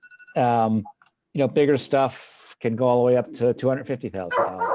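A dog barks intermittently in the background of a home office during an online work meeting, short yips and bow-wows mixed under steady close speech from a man.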